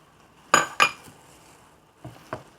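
A spoon clinks and scrapes against a bowl while coriander, fennel and cumin powders are mixed for satay, with two sharp clatters followed by two softer taps, close and without talk.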